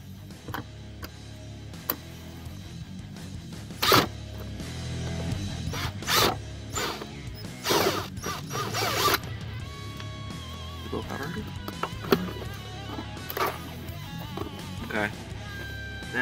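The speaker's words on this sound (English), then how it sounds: "Alright, we're going to remove these 2 screws here." Two screws come out of a Ram 1500 dashboard during a heater core replacement, with scattered ratcheting clicks, small metallic ticks and plastic clunks at close range over a quiet background.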